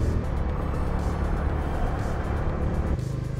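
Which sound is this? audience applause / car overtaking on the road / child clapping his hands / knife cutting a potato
car overtaking on the road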